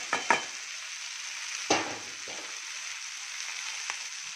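Onion, capsicum and tomato masala fry steadily in a pan with a constant close sizzle, broken by a few sharp clinks and scrapes of a spatula near the start and middle, with no voices.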